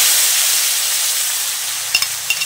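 Bagoong, a fermented shrimp paste, fries in oil in a pan with a steady, close hiss of sizzling, broken near the end by a few light clinks of a utensil stirring.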